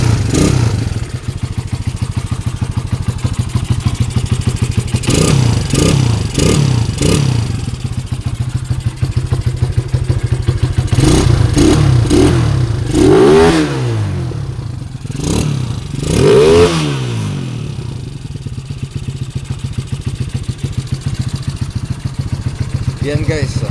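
A Honda Supremo 222cc motorcycle with a 30mm carburetor and a silent killer exhaust pipe idles steadily close by, then revs in several sharp bursts that fall back to a low, muffled rumble.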